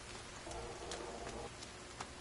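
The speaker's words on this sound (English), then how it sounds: "Good thing we're getting all this rain." Rain falling in the survival game The Forest, a continuous hissing patter with a few brighter drop taps and a faint low murmur beneath.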